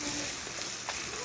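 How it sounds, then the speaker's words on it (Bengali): Ginger paste stirred and fried with spices in a pan gives a soft, continuous sizzle, broken by a few quick scrapes of a spoon in one brief, close-up burst. "এটিকেও এই মশলার সঙ্গে ভালো করে নেড়ে ভেজে নেব"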